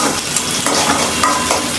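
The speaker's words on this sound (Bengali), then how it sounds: "তো পেঁয়াজটা ভাজা হোক" Onion sizzling and frying in a pan, a steady loud hiss with faint stirring scrapes, close and alone without talk.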